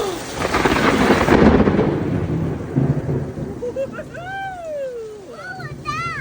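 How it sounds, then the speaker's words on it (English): Thunder from a big thunderstorm in Virginia rolls in as a loud, broad rumble over rain at the start, then fades while children talk and exclaim excitedly afterward. "That was thunder and lightning."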